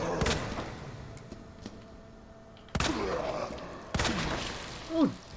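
Pistol shots in the survival horror game Resident Evil 2 Remake, three sharp bursts spaced a second or so apart with ringing game ambience and creature noises between them.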